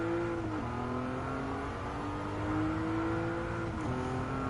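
A De Tomaso Mangusta's engine in Gran Turismo 7, holding a steady, loud drone with a couple of brief pitch shifts as it changes gear, racing continuously with no voices.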